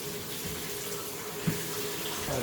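Water runs steadily from a shower head onto a Bissell PowerForce Compact vacuum filter and cyclone assembly being rinsed, a continuous close splashing hiss with a brief knock partway through and no talking.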